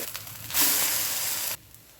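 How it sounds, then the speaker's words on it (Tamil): Hyderabad spot idli flipped on a hot pan with a little ghee and fresh coriander sizzles loudly in a sharp burst lasting about a second, then drops back to a faint hiss. "கொஞ்சமாக நெய் ஃப்ரெஷ் கொத்தமல்லி தூவி இதை இப்போ திருப்பி போட்டு"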